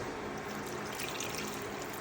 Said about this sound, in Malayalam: ആവശ്യമുള്ള വെള്ളം ഒഴിക്കാം